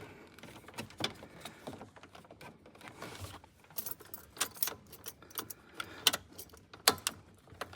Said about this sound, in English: We might have to turn the ignition switch, the key tumbler,